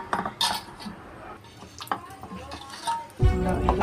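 Spoon clinks and scrapes against a bowl while thick cauliflower pakoda batter is mixed, a few light taps up close, ending in a louder clatter.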